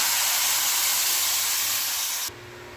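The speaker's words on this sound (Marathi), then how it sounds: "आता हे आपण जे पाणी तयार केलेलं आहे ना आमटीचं लिक्विड ते टाकून घ्यायचं" Amti liquid poured into hot garlic tempering for a village-style okra amti, a loud steady sizzling hiss that cuts off abruptly, leaving a low simmer.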